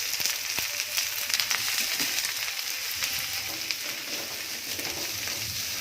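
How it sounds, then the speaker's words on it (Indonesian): Sliced shallots (red onions) fry in hot oil in a wok, giving a steady, dense sizzle that holds at an even loudness throughout, with occasional small crackles and no talking. "kalau sudah panas, kita masukkan bawang yang tadi sudah dirajang ya"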